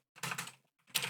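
Keystrokes on a computer keyboard while typing C code, two quick clusters of clicky taps separated by a short pause, close and alone.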